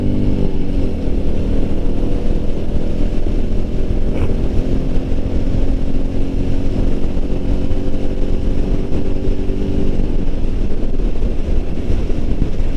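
Royal Enfield Meteor 350 motorcycle on a test ride, a loud continuous engine drone at steady speed with heavy wind rush on the microphone throughout, and no voice heard.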